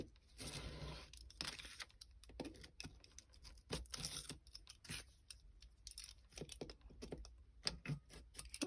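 Scissors snip through paper in short, quiet, irregular cuts, close up and faint, with small rustles and crinkles between the cuts while an envelope journal is made.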